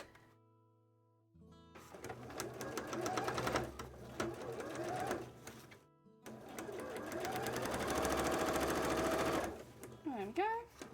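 A sewing machine stitches the top of a cosplay costume, running in quick mechanical bursts with short pauses between, close and fairly quiet, with faint background sounds and a brief high sweep near the end.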